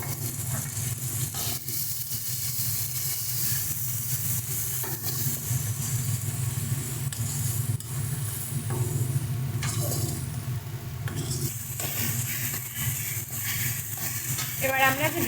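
Onion paste sizzles and fries in oil in a pan holding pabda fish, a continuous crackling hiss with occasional stirring scrapes, heard under a person talking.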